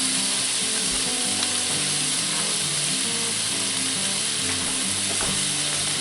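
Vegetables sauté in a pot for potato kielbasa soup, giving a continuous close sizzle and crackle with occasional stirring scrapes.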